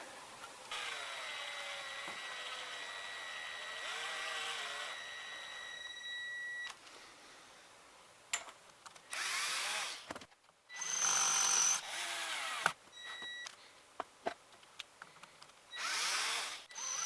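A power drill fitted with a masonry bit bores into stainless steel on a wok spatula handle, first as a steady whining run and then as short, stop-start bursts at close range, with no talking.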